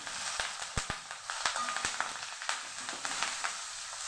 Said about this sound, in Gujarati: રાઈ જીરું સરસ ફૂટી જાય પછી પાંચ ચમચી જેટલી હિંગ ઉમેરશું